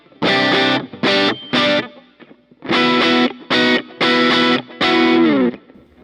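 Electric guitar played through a Mooer GE200 multi-effects unit with a C30 amp model and a subtle, basic reverb, loud strummed chords in short bursts with brief pauses and a faint reverb tail between them.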